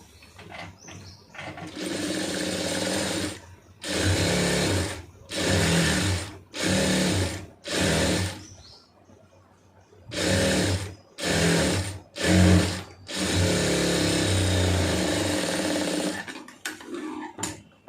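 Sewing machine stitching a large sleeve seam, running in close, loud bursts of rapid mechanical chatter separated by short pauses, with a few short stabs of stitching in the middle.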